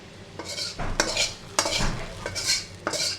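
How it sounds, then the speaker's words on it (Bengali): Lentils for a Malabar spinach dal get tipped into hot oil with browned onions and stirred, giving scraping spoon-on-pan strokes in an uneven rhythm with a light sizzle underneath, close and fairly clear with no talking. "ডালটা তেলে দিয়ে দিলাম"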